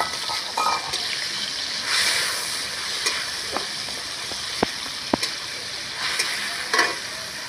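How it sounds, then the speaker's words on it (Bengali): Prawns fry in hot mustard oil in a wok, a steady close sizzle with scattered spatter pops and a few stirring scrapes, and no talk over it. "চিংড়ি মাছটা অর্ধেক ভাজা হয়ে গেছে, 2 চামচ মশলা দিয়ে দেবো।"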